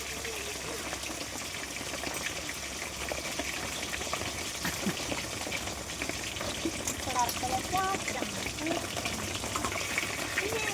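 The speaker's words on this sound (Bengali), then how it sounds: "ট্যাংরা মাছ, মাছটা ভেজে নেওয়া হচ্ছে" Tangra fish sizzling as it fries in a pan, a steady bubbling hiss with small crackles throughout, fairly close.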